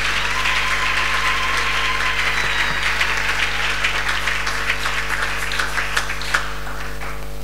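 A church congregation applauds steadily at a Sunday service, dense sustained clapping filling the room with a few sharper individual claps near the end and no talk over it.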